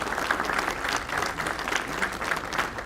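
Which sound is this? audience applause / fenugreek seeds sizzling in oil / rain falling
audience applause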